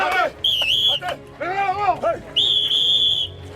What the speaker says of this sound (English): the instructors sound the whistle